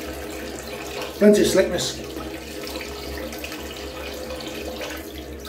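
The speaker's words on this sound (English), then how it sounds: "Right, go for the cold rinse." A tap runs steadily for a cold water rinse after shaving with a safety razor, a soft continuous flow with a brief louder splash, as someone speaks briefly over it.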